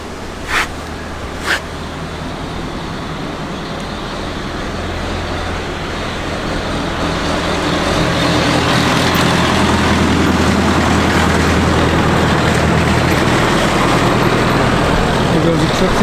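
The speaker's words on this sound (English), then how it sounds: "There's a tractor with some hedge clippings by the look of it." A tractor carrying hedge clippings passes on a damp, windy day: a steady engine drone that grows gradually louder as it approaches, with two brief clicks near the start and no talking.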